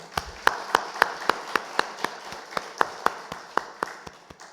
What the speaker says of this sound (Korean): 우리 박수로 축하합니다